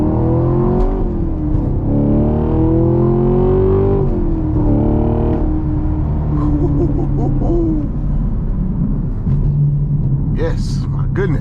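Street race car accelerating hard through the gears, a loud close engine roar with rising and falling pitch sweeps at each shift, with voices talking over it.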